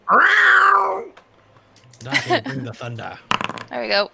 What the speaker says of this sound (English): my cat's sitting on my mouse.